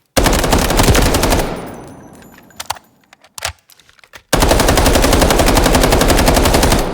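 A test-fired video game gun build lets off two long bursts of rapid automatic fire, loud and close, with a quieter stretch between them of trailing echo and a few scattered clicks and shots.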